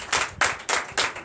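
A church congregation claps in unison in praise of Jesus during a Sunday worship service. Four crisp, evenly spaced claps sound close and steady.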